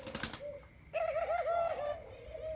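A spotted dove (Streptopelia chinensis) of a Malaysian line gives one clear, close, wavering coo phrase, preceded by a brief sharp click, over a faint steady background hiss.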